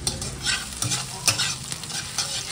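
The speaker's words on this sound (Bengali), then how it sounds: "তো শিমের জন্য পেঁয়াজ ভাজা হচ্ছে।" Onions frying for a bean paste, sizzling loudly in oil while being stirred, with bursts of scraping and crackle close up and no talking.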